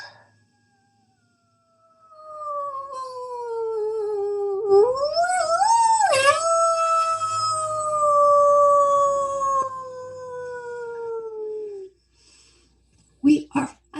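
A dog howls in one long, rising and wavering cry that swells, peaks, then slowly tapers off, loud and close, with a short burst of other sounds after it fades.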